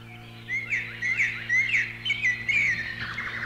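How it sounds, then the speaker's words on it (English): Songbirds chirping and trilling in a forest, played back from a 1980s Hong Da/Pioneer read-along toy cassette, with a steady low hum beneath; several repeated bright warbling phrases fill the stretch. "birds are singing"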